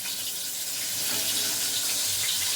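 Meat being washed under a running tap in a home kitchen: a steady, close rush of water splashing into a sink, unbroken throughout with no speech.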